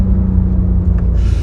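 Audi RS5 powering out of a hairpin on an alpine road, a steady loud low engine rumble with a deep droning tone building as it accelerates, heard close and alone.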